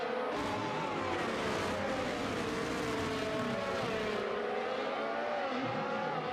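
Formula 1 race cars, including a McLaren, a Red Bull and an Alpine, in an F1 video game at the Saudi Arabian Grand Prix, their high engine whine droning continuously and wavering in pitch as they run at speed.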